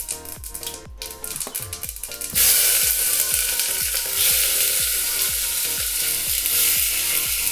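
Chopped tomatoes drop into hot oil with spluttering mustard seeds and asafoetida, and a loud, steady sizzle bursts up, with rhythmic stirring scrapes underneath before and after.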